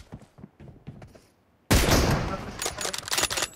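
An M24 rifle in an online shooting game fires a single sudden loud blast partway through, followed by a decaying reverberant tail after a quieter stretch of faint game sounds.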